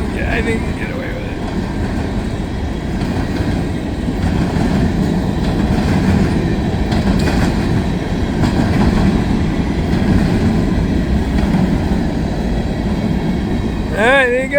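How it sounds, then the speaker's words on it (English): A freight unit train of covered hopper cars rolls past into Baldwin Yard, a loud, steady rumble with rhythmic wheel clatter that runs the whole time, ending with a brief squeal. "Unit train of hoppers going into Baldwin Yard."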